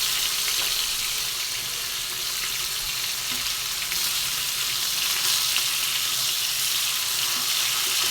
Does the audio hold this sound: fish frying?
yes